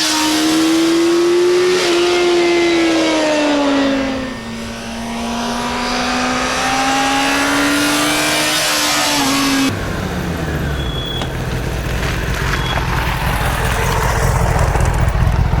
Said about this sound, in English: when you're up there in the RPM, that's when this bike comes to life